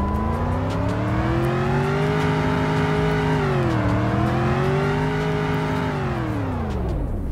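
Dodge Challenger V8 muscle car engine revving hard, pitch rising and holding high, dipping briefly, then climbing again before falling off, loud and continuous with no voices.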